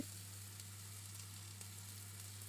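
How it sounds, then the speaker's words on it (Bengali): Chopped onion frying in oil in a pan, giving a faint, steady sizzle over a low constant electrical hum, quiet and even throughout with no talking. "পেঁয়াজ কুচিটা কিছুক্ষণ নাড়বো তেলে"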